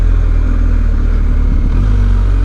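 A BMW R 1250 GS motorcycle engine runs close and steady with a low rumble, dipping briefly as the rider clutches and shifts from first to second gear before the drone settles again.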